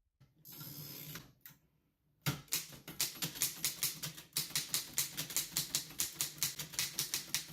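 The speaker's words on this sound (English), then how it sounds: "The rhythmic clacking of the typewriter keys filled the air" Typewriter keys clack in a steady, rhythmic run of sharp mechanical strikes, close and distinct, after a brief burst of whirring mechanism and a short pause; no voices.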